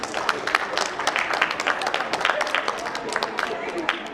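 An audience at a corporate summit in an institute hall claps for a speaker, a dense, steady patter of many hands throughout, fairly close, with some murmuring under it.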